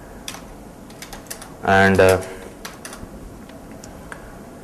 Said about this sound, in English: in this I am just typing some nonsense